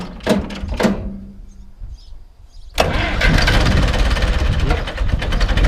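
A few clicks and cranks, a pause, then a heavy diesel engine of an Ursus C-360 tractor fires up cold and settles into a loud, steady, knocking idle nearby.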